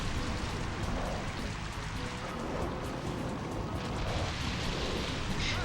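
Rain Dance in Pokemon Colosseum, a steady, dense hiss of falling rain with faint scattered rumbles, unbroken and fairly quiet throughout, with no voices.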